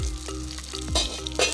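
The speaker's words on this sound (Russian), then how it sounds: "уже жарит рыбку" Fish frying in a pan beside a camper van in the Upper Harz gives a close, continuous sizzle with crackles and a few stirring knocks, loud and with no voices.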